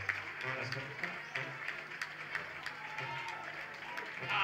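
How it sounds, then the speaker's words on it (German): Applause for a carnival dancer at a Schwerin carnival society show, sustained clapping from an indoor crowd with a few louder bursts, under a host talking over it. "Die Gitta, ein extra Beifall,"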